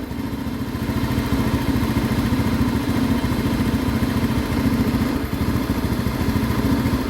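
A PGM-FI fuel-injected motorcycle engine idles close by while its RPM is being adjusted, a loud, steady, rapid putter with a fine mechanical clatter running throughout.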